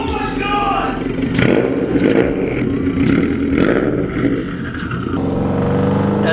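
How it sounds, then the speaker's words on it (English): A Subaru STI fitted with a Tomei Expreme Ti titanium exhaust rumbles and revs close by, its engine note rising and falling in loud bursts of clattering burble while voices talk and exclaim over it. "the Tomei is my all-time favorite exhaust, and we have just installed it on the STI"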